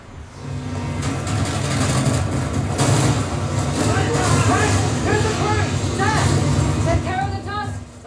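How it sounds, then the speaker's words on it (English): Engine roar of a car chase in the video game Uncharted: The Lost Legacy, played through a Sonos Beam Gen 2 soundbar: a loud, continuous low rumble running the whole time under music and effects, with voices heard throughout. "This car chase sequence that I captured out here"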